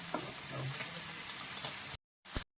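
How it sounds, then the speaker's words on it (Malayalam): Fish frying in oil in a pan for Bengali fish curry, a steady close crackling sizzle that cuts out briefly, then returns in a short burst. "ഇപ്പം നമ്മുടെ മീൻ്റെ നമ്മൾ ഫ്രൈ ചെയ്തുകൊണ്ടിരിക്കുകയാണ്"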